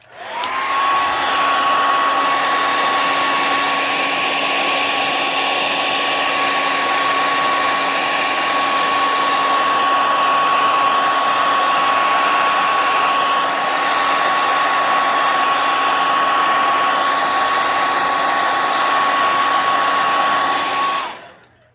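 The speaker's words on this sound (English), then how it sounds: "let me hit it with the hairdryer" A hairdryer drying paint on an N scale model gas station blows steadily at close range for about twenty seconds, a loud constant whoosh with a high motor whine running underneath.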